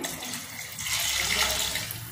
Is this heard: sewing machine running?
no